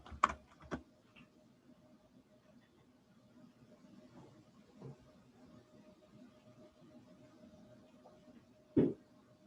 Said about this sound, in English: Go ahead and type in run.